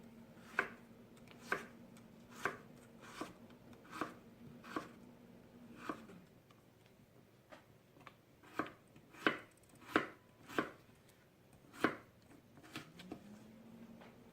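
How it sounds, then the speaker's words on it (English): A knife chops potatoes on a cutting board with a series of crisp, evenly paced close knocks, alongside a steady low hum from a kitchen appliance that cuts out partway and then returns. "we're going to need a few more potatoes, so make sure I cut those up pretty quick"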